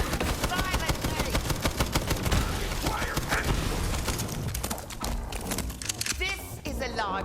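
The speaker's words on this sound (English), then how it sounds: "Those better not be guns I'm hearing." Rapid gunfire rattles in bursts in the video game Borderlands 3, with dense repeated shots throughout and a voice talking over the fighting.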